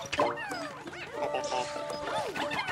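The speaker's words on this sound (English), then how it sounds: "I heard a bark." A dog barks and yips in Pikmin 4 video game, several short calls mixed with busy game music and sound effects, fairly loud throughout.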